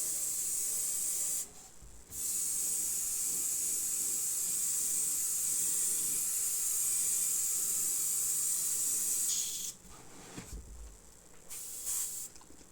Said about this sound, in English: Airbrush.